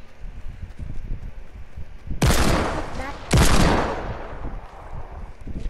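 Gunfire from the video game Fortnite, aimed at a target during training: two loud, dense bursts of rapid shots, each lasting about a second, stand out over a quiet, low rumbling background.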